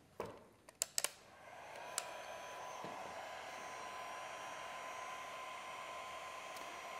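A heat gun or hair dryer blows steadily on a bar of wax for suede, a constant airy whoosh that starts after a few sharp handling clicks and holds evenly to the end.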